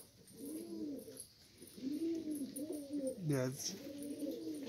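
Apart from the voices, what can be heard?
pigeons cooing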